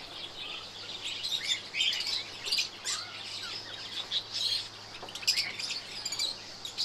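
Java sparrows and finches chirp together in an aviary, a steady chorus of bright, overlapping tweets and short calls continuing throughout at close range.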